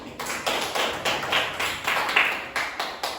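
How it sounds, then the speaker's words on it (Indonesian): Female primary school teachers clap together in a classroom workshop, giving a steady run of about a dozen fairly even, close claps that stay rhythmic and distinct. "Tepuk tangan dulu ibu-ibu"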